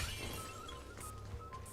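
Object smashing in Honkai: Star Rail, a short crash with shattering and clinking debris set against a steady game music and ambience bed, with no talking.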